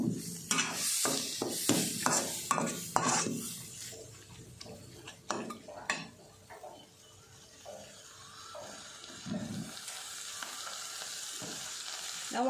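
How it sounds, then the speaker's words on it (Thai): Beef stir-fried in coconut milk for a Thai beef and pumpkin curry, sizzling and crackling steadily with repeated clatters of a utensil against the pan, busier early on and then settling into a softer continuous fry. "พอกะทิหอมแล้ว เนื้อลงมาผัดให้หอมนะคะ"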